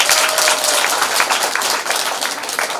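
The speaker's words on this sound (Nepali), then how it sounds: "सबैले ताली बजाउनुहोस्।" Applause from wedding guests at a Nepali Christian ceremony, a dense, steady wash of many hands clapping close by that fills the whole moment without pause.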